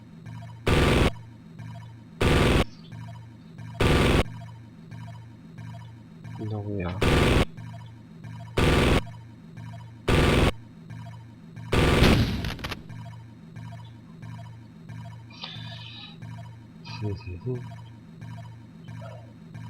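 Gunfire in the Amiga game Syndicate: seven or so short, loud bursts spaced at steady intervals, then a cluttered stretch of smaller shots, while someone talks and laughs over it.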